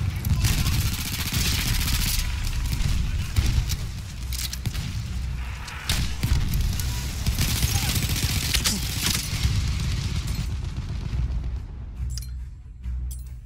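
Grenade explosions and rapid gunfire from a Battlefield 1 multiplayer battle in a forest: dense bursts of shots and heavy booms crowd each other throughout, easing off near the end, with voices mixed in underneath.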